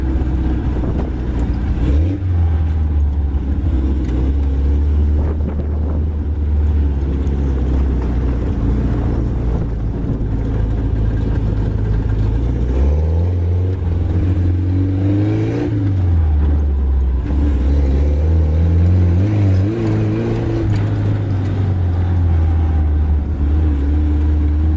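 A Suzuki 4x4 engine runs steadily nearby, its rough, uneven idle rising and falling with a few revs throughout, loud and unbroken with no voices.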